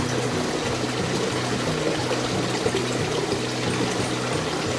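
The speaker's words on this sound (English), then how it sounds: "I think you can hear the water running from the spring." Spring water running in the Guadalupe Mountains, a constant close trickling and pouring wash with a low steady rumble beneath it and no voices.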